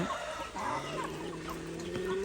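Chickens cluck softly and steadily in a farmyard, with a low continuous hum underneath and no talking.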